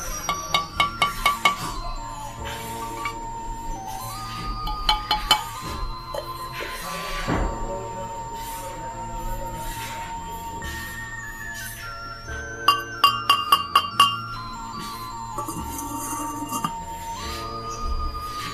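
Terracotta and ceramic pottery pieces clink and tap together in several short bursts of bright ringing knocks, separated by quieter stretches with a faint tonal hum beneath.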